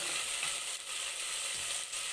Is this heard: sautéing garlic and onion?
yes